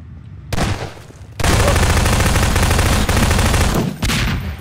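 Rapid automatic gunfire sprays across a Garry's Mod Prop Hunt round, with a short burst followed by a long, loud, continuous stream of shots at close range.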